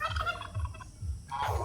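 A turkey gobbles in quick repeated bursts on a small backyard farm kept alongside ducks, chickens and geese, fairly close and plainly audible over light outdoor background noise.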